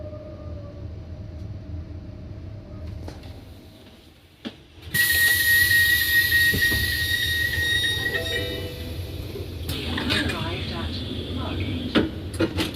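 A Southeastern Javelin high-speed train to St Pancras International hums along with a steady rumble and high whine; a tone sounds, then a loud rush of running noise under occasional announcements.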